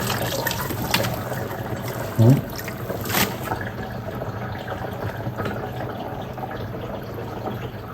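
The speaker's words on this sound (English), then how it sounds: "You look inside there, see water going out." Water drains out of a 2-in-1 8 kg washing machine in a continuous trickling, gurgling flow, close and moderately loud, with a brief splash partway through.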